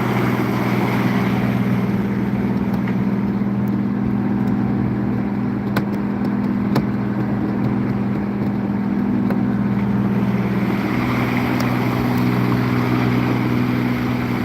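A fishing boat's engine drones steadily while under way offshore, a loud continuous low hum with a few faint clicks on top, no voices.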